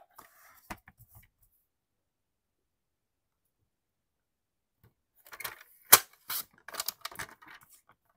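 Cutting along a marked line while making a perpetual date calendar gives a brief cluster of sharp snips and clicks after a long silence, close and fairly crisp, with a couple of faint taps earlier.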